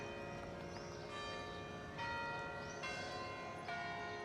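Church bells ring out in Braga, Portugal, with repeated strikes about every second that leave long, overlapping metallic tones hanging in the air, heard clearly and alone.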